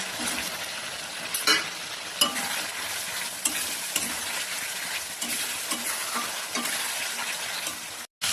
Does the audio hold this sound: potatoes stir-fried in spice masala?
yes